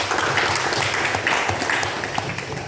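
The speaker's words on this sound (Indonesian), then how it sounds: "Kita tepuk tangan dulu untuk ini." Classroom of students giving a round of applause, a steady wash of dense clapping that stays fairly even and slowly tapers at the end.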